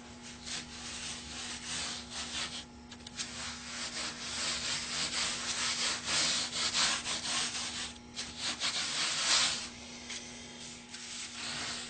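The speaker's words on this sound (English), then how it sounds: "just toss some sawdust on there, rub it in" Sawdust rubbed by hand into a wooden violin plate to neutralise spray adhesive. A steady, gritty scrubbing continues throughout at moderate loudness over a faint constant hum, with no voices.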